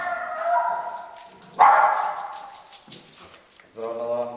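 A pet dog barks in greeting at home, a few sharp barks mixed with excited voices and some bumping close by.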